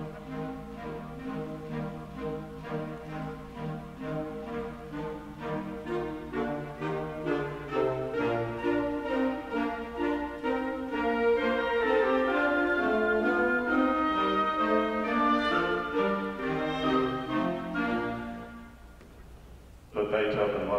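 Orchestral minuet in a classical style, strings playing a stately dance tune with running phrases that build and then fade near the end, steady and moderately loud, with no voices over the music.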